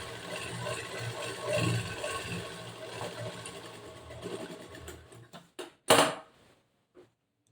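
A sewing machine stitches pieces of fabric for a boat-neck blouse with puff sleeves, running in a steady whir for several seconds, then stopping and starting in short bursts before falling silent.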